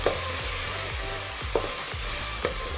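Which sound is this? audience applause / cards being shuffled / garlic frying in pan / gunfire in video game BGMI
garlic frying in pan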